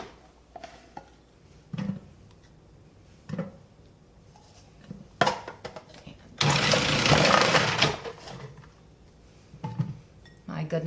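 Food processor fitted with a coarse grating disc shreds a batch of potatoes and onion, a loud dense whir of about two seconds between stretches of quieter kitchen sounds and a few short clinks and knocks.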